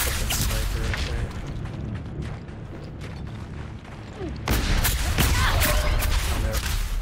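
Gunfire and sniper shots ring out in a video game, a dense run of sharp cracks and booms over a busy mix that grows louder partway through, with a voice talking underneath.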